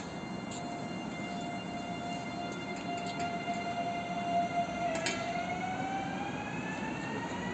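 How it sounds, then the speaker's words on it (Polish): A rumbling freight train of tank cars rolls past at a steady pace in the Czech Republic, with a continuous low roar and a drawn-out whistling tone that dips and rises. "Od strony Hulina mamy pociąg towarowy, cysterny."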